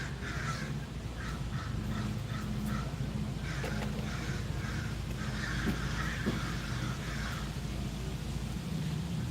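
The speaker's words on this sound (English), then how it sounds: "hear the crows." Several crows caw repeatedly outdoors, harsh calls arriving in uneven bursts at moderate distance over a steady low rumble of background noise.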